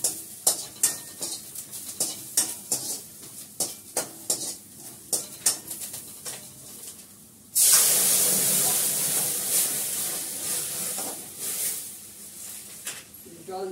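Masoor dal hits a hot pan with a sudden loud, hissing sizzle that then keeps going steadily. Before that comes a run of sharp, rhythmic clinks and scrapes of stirring, and faint talk sits under it.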